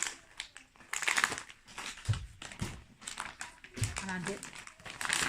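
Stiff plastic zip bag crinkles and crackles in bursts as it is worked open, with a voice talking over parts of it.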